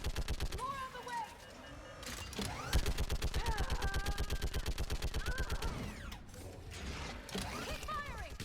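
Rapid automatic gunfire in the Mass Effect 3 battle, dense rhythmic bursts running nearly the whole time alongside whining energy effects and game voices.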